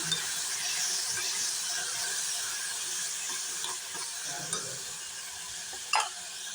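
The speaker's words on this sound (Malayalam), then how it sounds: "ഇത് നല്ലോണം നമുക്ക് വഴറ്റിയെടുക്കേണ്ടതാണ്" Potato and carrot masala sautéing in a pan gives a continuous soft, hissing sizzle, with a few light scrapes and clicks from stirring near the end.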